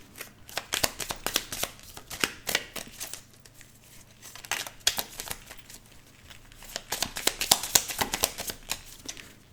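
Tarot cards being shuffled by hand before the deck is cut, a close, crisp run of riffling slaps and flutters in repeated bursts with short pauses between them.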